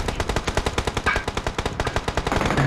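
Rapid automatic gunfire rattles in a mobile shooter game, a loud sustained burst of evenly spaced shots from close by, heard alone.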